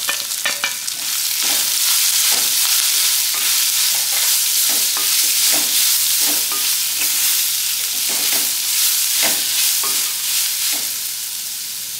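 Cumin, curry leaves and grated amla frying in hot oil for amla rice, giving a loud, continuous close sizzle with intermittent stirring clinks and scrapes, no voices.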